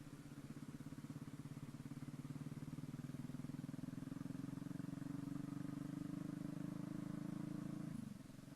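A modified classic-style Honda Verza 150 motorcycle being ridden, its engine droning steadily and gradually rising in pitch before dropping off sharply near the end, heard faintly over wind.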